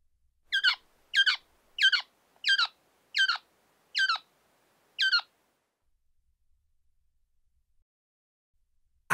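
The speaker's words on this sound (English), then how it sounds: "owl" An owl gives seven short, evenly spaced calls in a steady rhythm, then goes silent.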